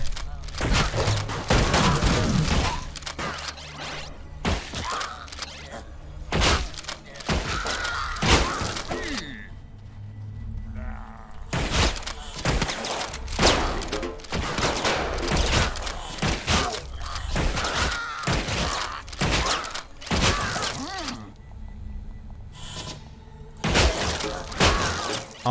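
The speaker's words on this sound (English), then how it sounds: "So as you might expect, the shotgun is a close-range weapon." A shotgun in the video game Utopia 9 fires a string of loud, sharp blasts at irregular intervals, each a broadband crack with a heavy thump, mixed with other game impacts.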